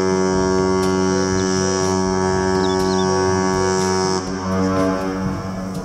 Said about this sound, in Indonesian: Kapal pesiar.